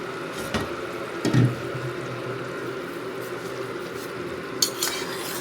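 Rice and vegetables being stirred for a yellow veg biryani: a spoon clinks and scrapes against the pot a few times, with soft movement between the clinks and no voices.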